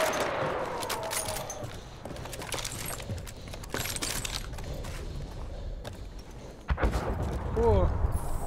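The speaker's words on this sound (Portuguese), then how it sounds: "Então vamos trocar tiro." Scattered gunshots and rattling bursts of fire from the video game Battlefield 1 crackle throughout, some sharp and close, others distant, under a voice talking.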